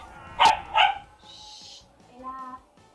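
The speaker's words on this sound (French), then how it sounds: "désolé pour les bruits de chien" A dog gives two sharp barks close by, followed by a brief high whine and a softer whimpering tone.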